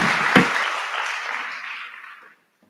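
Audience applause at the Kabarak KIPPRA 2022 mentorship programme, a burst of clapping from a room full of people that gradually thins out and fades to silence after about two seconds.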